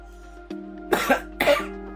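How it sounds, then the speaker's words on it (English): A single short cough in two bursts over a steady low electronic hum, close and fairly loud. "You coughed, that means you're dead."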